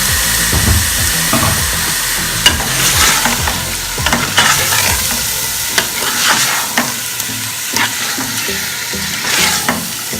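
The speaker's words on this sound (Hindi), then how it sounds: "और इसे तकरीबन उस वक्त तक भूनूंगी जब तक कि गोश्त का रंग सफ़ेद ना हो जाए।" Meat frying with tomato paste in a pot for Karachi biryani: a steady, loud sizzle broken by repeated sharp scrapes and clatters of stirring, with no talking.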